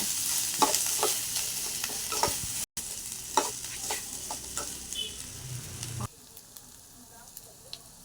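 Raw banana sautéing in oil, with repeated spatula scrapes and stirs over a light sizzle, close by; the frying quiets toward the end.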